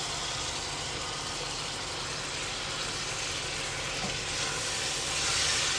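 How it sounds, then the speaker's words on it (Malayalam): Chicken tipped into a pan of softened vegetables for chicken stew and mixed, a steady broadband sizzle and hiss holding level throughout with no voices. "ഇനി ഇതിലേക്ക് നമുക്ക് ചിക്കൻ ചേർത്ത് കൊടുക്കാം. എല്ലാം കൂടി നല്ലപോലെ മിക്സ് ചെയ്തെടുക്കാം."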